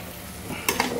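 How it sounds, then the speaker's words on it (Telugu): Rice with garam masala and salt is stirred in a pot for biryani. The close scraping and stirring is faint at first and turns into a brief, louder burst of rustling near the end. "దాని తర్వాత మంచిగా కలుపుకోవాలి."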